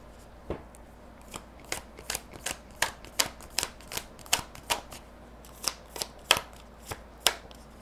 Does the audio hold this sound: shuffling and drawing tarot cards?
yes